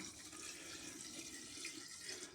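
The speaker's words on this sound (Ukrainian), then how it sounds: "Вливаємо в першу баночку." Homemade vodka for a blackcurrant crème de cassis liqueur pours steadily into a glass jar, a faint, continuous watery gush with no voices.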